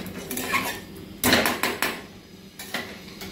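A utensil stirs and scrapes vermicelli frying in ghee in a metal pan, giving a few close, sharp clinks and scrapes, one louder clatter, then softer taps over a faint sizzle.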